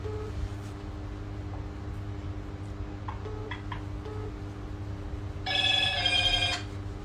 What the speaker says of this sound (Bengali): সাদিক ভাই ফোন দিচ্ছে, খালু আপনার ফোনটা রাইখে দেন।